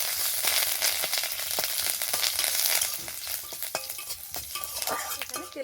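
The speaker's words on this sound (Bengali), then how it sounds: "এখানে তেলের সাথে ক্যারি পাতাগুলো একটু ভালো করে নেড়ে চেড়ে ভেজে নিয়েছি" Curry leaves fry in hot oil and are stirred briskly, giving a loud crackling sizzle with rapid, continuous spatula scrapes close up.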